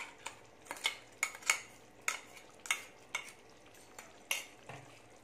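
A spoon stirs chicken gravy with coconut in a cooking pan, giving a string of sharp metallic scrapes and clinks in irregular bursts over a faint sizzle, close and fairly quiet, with no voices.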